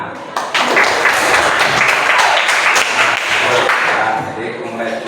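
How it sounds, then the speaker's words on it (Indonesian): Applause from a class or audience after a lesson on the 1928 Youth Pledge, a dense burst of many hands clapping that starts abruptly and carries on steadily, fairly close, for several seconds. "Tepuk tangan."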